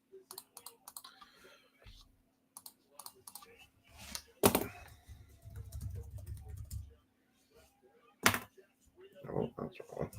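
Someone types on a computer keyboard in quick, irregular bursts of clicks close by, with scattered pauses, a low rumble and a couple of louder knocks mixed in, while talk comes and goes.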